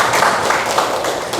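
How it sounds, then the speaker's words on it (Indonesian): Short burst of classroom applause for a student, many hands clapping together in a loud, dense patter that lasts just over a second. "Tepuk tangan untuk Arel"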